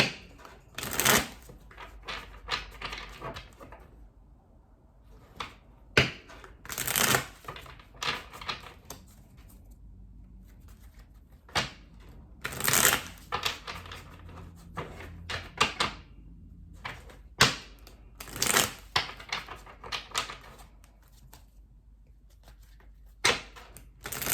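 Tarot deck being shuffled by hand, a long run of soft papery riffles and card slaps in bursts, close and gentle, with brief pauses between bursts.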